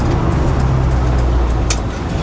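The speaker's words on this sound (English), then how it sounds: "Put the window down a little bit," Inside a 1969 Ford F100 pickup on the move with the window partly down, a steady engine and road drone mixes with rushing airflow, loud and continuous.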